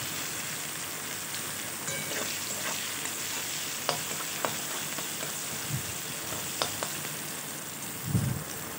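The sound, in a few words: chopped onion frying in hot oil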